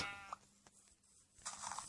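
A faint Minecraft sheep bleat rises near the end, heard alone over quiet background with a few small clicks beforehand.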